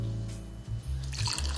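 Molasses-fermented, full-bodied Jamaican rum pours into a glass in a steady close liquid stream with a brief break midway, in a home cocktail setup.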